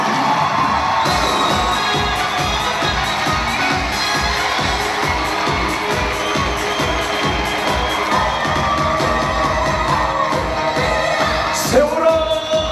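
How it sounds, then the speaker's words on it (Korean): A festival audience at a Busan chapter founding celebration cheers, whoops and claps loudly and continuously in welcome of a performer, with shouting voices mixed in throughout and a brief sharper burst near the end. "큰 박수로 환영해 주십시오."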